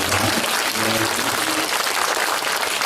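A crowd applauds steadily and loudly for a few seconds, with dense clapping filling the clip and a brief hum of voices near the start.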